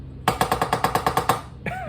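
A Dyson DC14 or DC33 upright vacuum with a faulty brush roll clutch rattles loudly as it runs, a rapid regular clatter of about a dozen hard knocks over the motor's steady roar, which carries on smoothly once the clatter stops.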